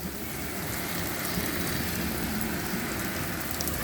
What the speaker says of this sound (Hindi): इतनी सख्त बारिश हो रही